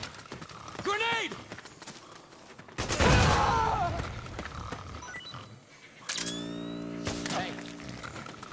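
Metal Gear Solid 4 combat, with shouted voices and a chaotic burst of noise in the middle, then rapid mechanical firing and scattered shots near the end, loud and close over a tense background.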